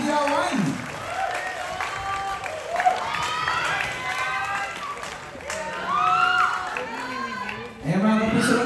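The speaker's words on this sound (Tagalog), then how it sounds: "Pwede ba mas malas yung palakpagan natin dyan mga puso?" Crowd applause and cheering at the Mga Batang Riles grand media conference, steady clapping throughout with shouts rising in bursts, while a host's voice talks over it.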